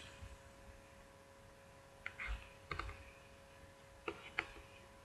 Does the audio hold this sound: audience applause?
no